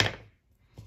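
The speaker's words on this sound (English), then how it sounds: "I'm going to snip my corners, a little snip at the bottom for my shape" Scissors make two short, crisp snips through card while cutting the corners of a Christmas gift tag, the first snip louder, then a brief quiet gap before a softer second cut, close up.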